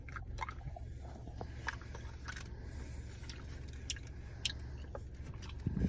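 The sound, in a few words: chewing sour watermelon gum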